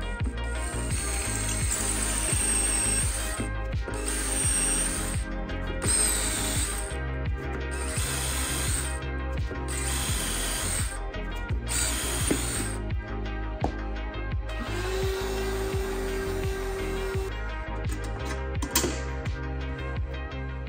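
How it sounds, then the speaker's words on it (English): Hand drill boring through an aluminum tube on a Rans S-21 wing strut truss, the tube acting as a guide; repeated bursts of close, loud whirring and grinding separated by short pauses, with no talking. "So I'm just gonna hand drill at this point because the tube is gonna kind of be my drill guide."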